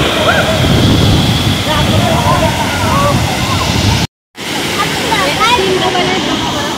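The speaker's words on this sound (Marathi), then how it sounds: "धबधब्याला प्रचंड फ्लो आहे आणि त्यामुळे ना धबधब्यावर जे कातळावर जे पाणी पडतं" A loud, steady roar of the heavily flowing Sateri waterfall crashing onto rock, continuous and close, with a brief dropout near the middle and faint voices beneath.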